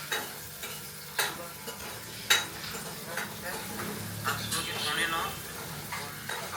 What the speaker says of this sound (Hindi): दाल को तड़का लगा रहा था